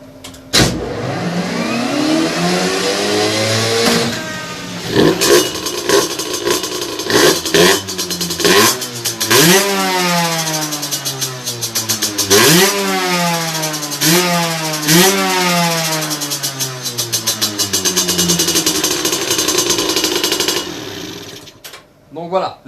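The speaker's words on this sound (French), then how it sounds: "Je vais te remettre la moto en route" A small motorcycle engine with a 17.5mm carburetor starts up and revs repeatedly, sharp rising and falling whines close by, with a steady idle between bursts.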